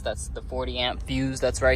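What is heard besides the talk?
No everyday noises stand out.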